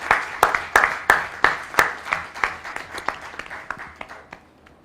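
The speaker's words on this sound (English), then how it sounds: "Give them a rousing round of applause" Applause at a banking quiz contest welcoming two contestants, starting with a few loud, distinct claps from nearby hands over lighter crowd clapping, then thinning and fading out toward the end.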